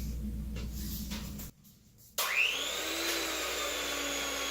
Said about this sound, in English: I use my hand mixer